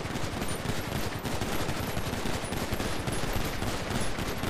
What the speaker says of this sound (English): Open fire on the swift now.